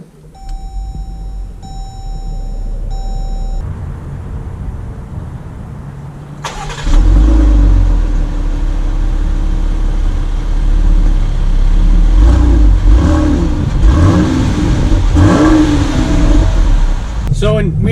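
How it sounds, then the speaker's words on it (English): A 2019 Dodge Durango GT with a V6 engine pulls away after a few electronic chimes, its engine note rising and holding a steady drone as it drives off, with road noise and voices over it. "let's take this new 2019 GT out to see how it drives"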